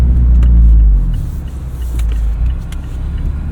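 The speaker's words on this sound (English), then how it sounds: "And listen to that exhaust." A Mazda MX-5 Miata (ND3) on the move with windows up, its engine and exhaust giving a loud, deep droning rumble that swells and eases slightly, heard from inside the cabin with no talking.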